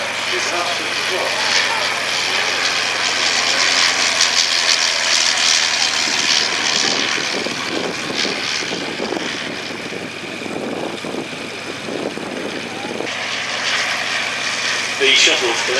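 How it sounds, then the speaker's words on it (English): Avro 504K biplane from the Shuttleworth Collection at an airshow, its rotary piston engine droning steadily with fluctuating intensity from a distance under an announcer's continuous commentary and crowd noise. "The Shuttleworth Collection 504K is now painted in the livery of the Home Defence Night Fighter."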